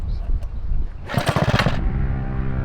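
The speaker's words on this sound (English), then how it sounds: "why did we put a 23 horsepower engine on a 50-pound mini bike frame?" A 23-horsepower engine fitted to a light 50-pound mini bike frame revs up loudly for about a second, a rough buzzing roar close by that settles back to a steady idle, with speech and background noise around it.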